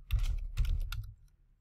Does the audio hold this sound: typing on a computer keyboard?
yes